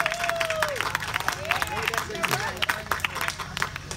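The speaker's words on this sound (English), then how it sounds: "It's like you clap for us, we should clap for you for sitting there." Audience at a jazz concert at Salem Jazz Fest in Salem, Virginia claps steadily in a dense wash of applause, with crowd murmur and a few voices underneath.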